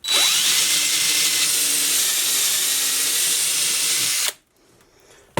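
Power drill boring through wood guided by a self-centering jig on a garden trellis build, a loud steady high-pitched whine with a grinding hiss for about four seconds, stopping abruptly into quiet.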